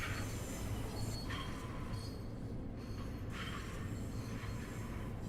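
A 12-car LIRR train in Train Sim World 4 rumbles along the track with a steady rolling roar, punctuated by recurring high wheel squeals and faint clickety-clack.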